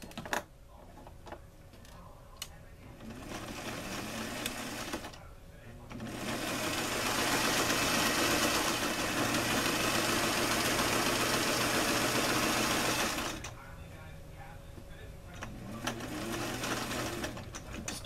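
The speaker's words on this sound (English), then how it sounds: "Now we're just going to stitch. Along these two outside lines." An electric sewing machine runs steadily for about eight seconds in the middle, stitching along the outside lines of a tailored gauntlet placket, with quieter handling and some talk before and after.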